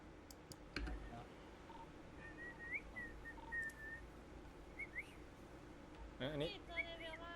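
A person whistles short, wavering notes in a few bursts over quiet background clicking, with faint voices nearby.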